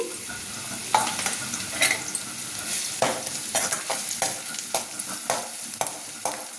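Onions and green chilies fry in a pan under a constant sizzle, with frequent stirring scrapes and clatters of a spoon against the pan at an irregular rhythm, close and fairly loud, no voices.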